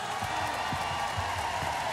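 A large concert crowd at Paris Bercy applauds and cheers steadily during an RFM Party 80 show, a continuous wash of clapping and crowd noise over a sustained musical tone with low thumps.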